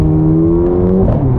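A 2023 Mercedes-AMG SL43 driving in Sport Plus mode makes a loud, close, steady engine hum with a slight rise in pitch near the end, heard alone for a brief moment.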